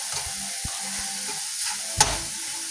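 Ground turkey browning in a pan for chili, a soft steady sizzle with a few scraping stirs and one sharper knock of a utensil against the pan.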